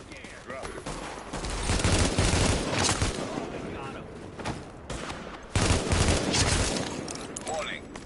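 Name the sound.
gunfire in the video game The Division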